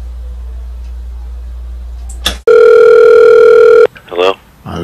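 A telephone dial tone rings out steady and loud for about a second and a half before a phone call, following a faint low hum and a brief click, then broken by short noises afterward.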